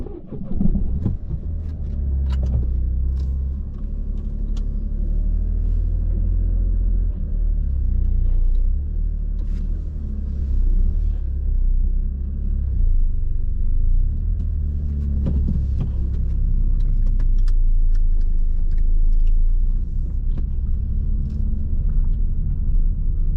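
A car driving home from Castle Combe circuit, with a steady loud interior road rumble and engine drone, occasional bumps and knocks, and slight rises in engine note.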